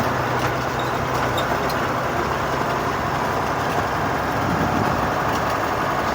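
A truck engine drones continuously and loudly at steady pace, with road and traffic noise around it, while a learner drives in fourth gear on a West Bengal road; no talk is heard.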